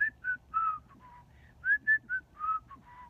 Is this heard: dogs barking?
no